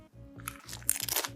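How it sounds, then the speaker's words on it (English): Tortilla chip topped with guacamole being crunched close up, a run of loud crisp bites and crackles across the whole stretch, with no talking over it. "I'm gonna do some guac. with the chip, and then I'm gonna do the dragon sauce with the chip"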